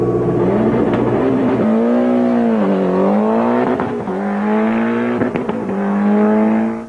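A 1993 rally car engine revving loudly and close, the pitch climbing, sagging and rising again in sustained throttle blips with a rough, harmonically rich tone and no talk.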